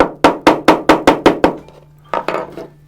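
A hammer drives a U-shaped nail during an exhibit installation: seven sharp, evenly paced strikes close by, a short pause, then two more blows.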